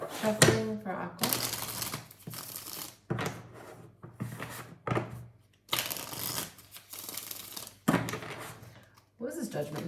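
Tarot cards shuffled in repeated bursts of riffling and flicking, close and fairly loud, with short pauses between shuffles and a faint steady hum underneath.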